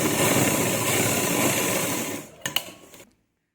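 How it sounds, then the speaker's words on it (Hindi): A sewing machine stitches a folded fabric strip with a fast, steady whir up close, slowing near the end with a couple of clicks before stopping into silence. "इसे फोल्ड कर कर इस पर भी सिलाई लगा देंगे हम।"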